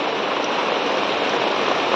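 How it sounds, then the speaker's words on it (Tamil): Steady rain falls in a mountain setting, an even, dense broadband hiss that holds constant from start to finish with no voices over it. "மழை செம்மையாக இருக்குது."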